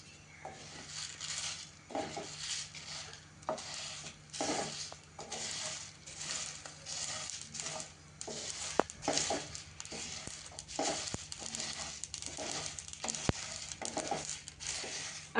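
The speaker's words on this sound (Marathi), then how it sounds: "लवंगा, मिरे आणि तमालपत्र. आता आपण हे मध्यम आचेवर भाजून घेऊया." Whole cloves, black peppercorns and bay leaves dry roasting over medium heat for garam masala, with a soft steady rustle and repeated light rattling and clinking as the spices are stirred and tossed in the pan.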